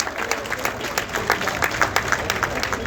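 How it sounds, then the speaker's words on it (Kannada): Audience applause welcoming the Chief Minister to the stage at a KSRTC bus launch event, a steady wash of many hands clapping at moderate distance, with a voice faintly underneath. "ಮಾನ್ಯ ಮುಖ್ಯಮಂತ್ರಿಗಳ ಆಗಮನವಾಗಿದೆ ಈ ವೇದಿಕೆಗೆ ಚಪ್ಪಾಳೆಗಳ ಮುಖೇನ ಸ್ವಾಗತಿಸಿ"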